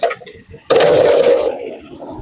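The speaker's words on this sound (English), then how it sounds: "So now I'm about to go ahead and blast this wheel off." A pneumatic impact wrench bursts into a loud, sustained whirring rattle for close to a second while removing a wheel from a jacked-up 2016 Ram 1500 pickup, then fades back to quiet background hum.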